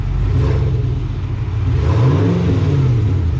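A Ford F-150 Tremor's 6.2-litre V8 revs up close and loud, its deep rumbling idle climbing into a rising, falling swell of engine roar.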